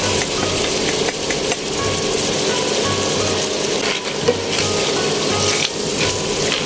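Crabs and mixed seafood sizzle and fry steadily in a pan, with a constant crackling hiss and faint stirring knocks throughout.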